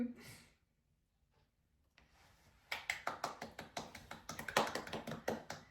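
A couple at home celebrating their first Valentine's Day after marriage clap their hands in a quick, close, steady burst of sharp claps. It comes after a quiet stretch with faint talk.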